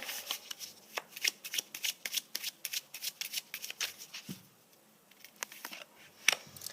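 Rider-Waite tarot cards being shuffled by hand, a quick series of crisp riffling flicks and slaps, close and fairly quiet, with a brief pause near the end before a few more flicks.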